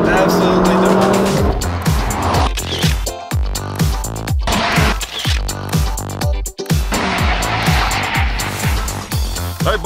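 Chevrolet Bolt electric car and Volkswagen Golf GTI in an amateur drag race: a loud, close engine roar that rises and shifts through repeated surges, with rhythmic mechanical pulsing and a brief dip partway through.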